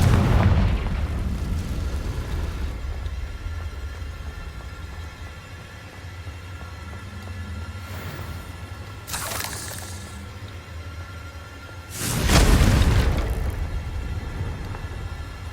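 Fiery Confringo spell explosions in the video game Hogwarts Legacy, with one deep boom at the start and two more heavy blasts later, the last the loudest, over a low rumbling background.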